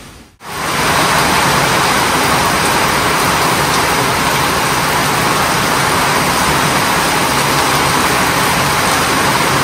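Heavy rain and wind during Typhoon Kristine: a loud, unbroken roar of downpour that starts abruptly after a brief quiet moment and holds steady throughout.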